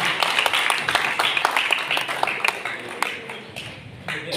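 Audience at an International Women's Day event clapping together, a dense, steady patter of many hands that tapers slightly toward the end, with no speech over it.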